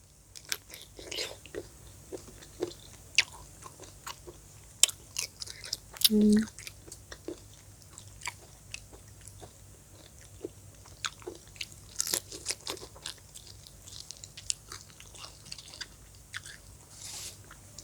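Crunchy food eaten with fried shallots, close crisp bites and chewing crunches repeating irregularly, with occasional quiet talk between mouthfuls.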